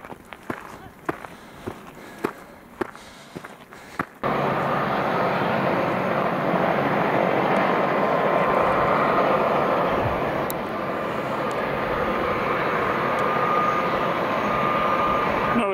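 A helicopter flies overhead on a mountain ridge route in Nelson Lakes National Park. After a few seconds of footsteps and quiet, its loud, steady rotor and engine roar sets in abruptly and holds strong to the end.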